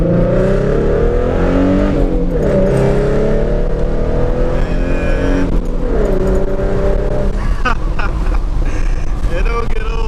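A 2014 Ford Mustang with the 3.7 liter V6 drones steadily at close range as it accelerates, its engine pitch climbing and shifting over about ten seconds, with wind noise and a voice talking over it.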